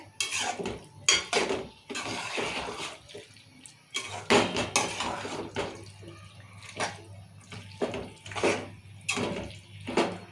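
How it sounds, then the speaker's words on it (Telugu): Chicken pieces are stirred in a cooking pot for curry, with repeated scraping and clanking of a utensil against metal in irregular bursts, close and fairly loud, with quieter pauses between strokes. "చికెన్ వేసుకున్నాం కదా మంచిగా ఇట్లా కలుపుకోవాలి"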